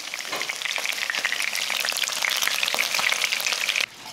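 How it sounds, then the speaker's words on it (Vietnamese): Vietnamese pork blood sausage fries in hot oil until golden and crispy, a steady dense crackling sizzle that stays loud and close throughout, then drops off sharply at the very end, with no voices. "mình có thể làm thêm một bước nữa là chiên cho đến khi bên ngoài vàng giòn"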